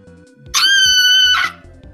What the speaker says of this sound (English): please scream just as loud as you can possibly can.